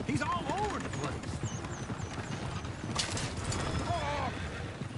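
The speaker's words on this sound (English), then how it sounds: "Oh, shit, the horses! Damn horses!" Horses clip-clop steadily through a train robbery in Red Dead Redemption 2, with a busy hoof rhythm and occasional whinnies under loud shouting voices.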